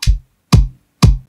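Top layer of an EDM kick drum heard on its own, three punchy clicky hits about half a second apart with bright attack and a short low tail, nothing else around them.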